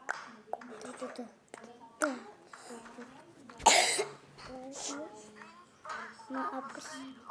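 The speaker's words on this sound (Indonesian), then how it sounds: "Maaf di batuk." Child coughing several times in short bursts, including one loud harsh cough partway through, mixed in with nearby speech and indoor household sounds.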